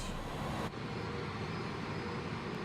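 Engines of an iniBuilds A300 airliner in Microsoft Flight Simulator roar as a steady, dense broadband rumble during pushback and start, loud and continuous, with a brief dip in the upper hiss partway through and no talking.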